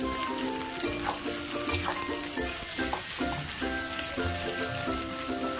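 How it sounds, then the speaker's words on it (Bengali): Sliced onions frying in hot oil for Bengali katla kalia, a continuous dense sizzle with occasional stirring scrapes in the pan, all under steady background music. "সেই পেঁয়াজগুলো তেলের মধ্যে দিয়ে দেব। ভালো করে তেলের সাথে পেঁয়াজগুলো নাড়াচাড়া করে নেবেন।"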